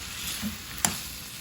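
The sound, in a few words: pork being stirred while frying in a pan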